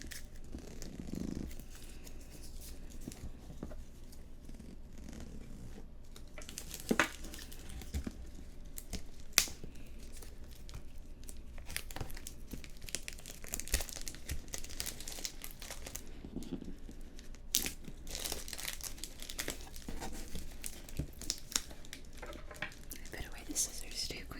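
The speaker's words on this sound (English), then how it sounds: "I can use my Melody scissors to start to open it." Small manicure scissors snip into crinkly plastic packaging of a miniature garden kit, giving soft, close rustles and crackles with occasional sharper crinkle bursts, under quiet whispering.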